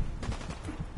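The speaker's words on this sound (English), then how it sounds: "where is the person that's shooting me?" Gunfire in the Fallout 4 video game, a dense run of shots packed into a second with a player in a stripped power armor frame under attack, loud and continuous with no pauses.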